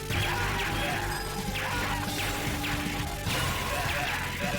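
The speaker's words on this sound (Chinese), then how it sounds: "而且各种的爆炸效果。 哎，我的载具打爆了。" Explosions and crashes in the arcade run-and-gun game Metal Slug, played co-op with a vehicle blown up, sounding as dense, continuous loud blasts and impacts layered over game music with no gaps.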